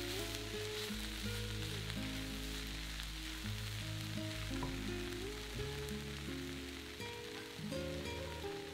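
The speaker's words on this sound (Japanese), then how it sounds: "おからを加えて炒めます。 焦がさないようにおからと具を混ぜ合わせていきます。" Okara mixed with chopped vegetables stir-fries in a frying pan, giving a steady, close sizzle with light crackling and occasional stirring scrapes, continuous throughout with no talking.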